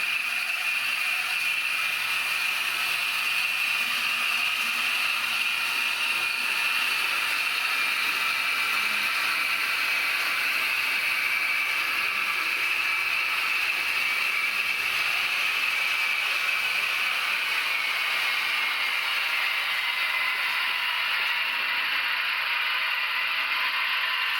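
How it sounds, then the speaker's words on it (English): Constant high whirring and rattling hum of a small model train climbing mountain tracks, steady and unbroken throughout. "here the train starts going up to the mountain tracks"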